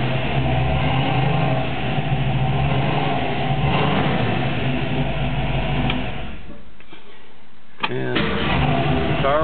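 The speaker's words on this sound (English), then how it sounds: "Car always starts up first time, runs nice and cool." A classic car with a 1965 intake runs at a steady, loud idle on a cool Florida morning. The engine rumble briefly drops away near the end, then resumes with a short mechanical click.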